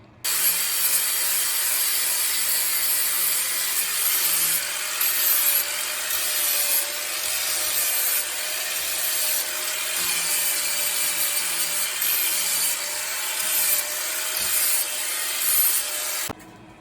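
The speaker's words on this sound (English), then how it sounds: "I just gotta like take the angle grinder and round the edges and smooth things up" A steady, loud, high-pitched grinding rasp of an angle grinder rounding and smoothing metal edges, continuous and close for about sixteen seconds before it stops abruptly.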